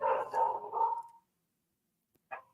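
A dog barks indoors in a house, a few close, loud barks in quick succession followed by a pause and one short final yip.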